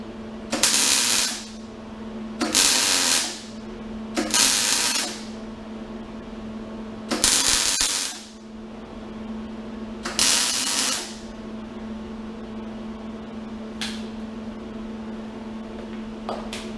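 A welder re-welding porous welds on a 1969 Charger K-member gives a series of short, loud crackling bursts of about a second each, separated by pauses over a steady hum, then one brief faint burst near the end.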